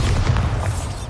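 The Bombarda spell explodes in Hogwarts Legacy, a deep, rumbling boom that fills the moment loudly and continuously with low-end weight.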